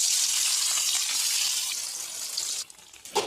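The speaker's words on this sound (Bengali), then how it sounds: "কড়াতে আমি তেল দিয়ে দিচ্ছি, আর মাছগুলো ভেজে নেবো।" Rohu fish fried in hot oil in a wok, giving a steady, bright hiss of sizzling that gradually softens, ending with a few sharp crackles.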